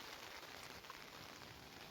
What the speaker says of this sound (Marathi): काय पाऊस आहे